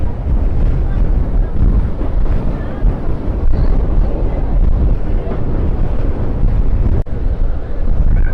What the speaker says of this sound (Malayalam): ശരിക്കും നല്ല കാറ്റുണ്ട്